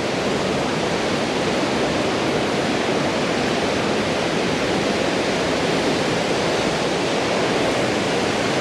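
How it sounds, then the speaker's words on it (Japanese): Nunobiki waterfall roars as a dense, steady rush of falling water, loud and unbroken throughout, with no voices. "布引きの滝が見えるっていう。"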